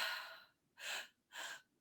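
Two quick, sharp breaths drawn in during a breathwork demonstration, each a short airy burst separated by brief silence, close and soft.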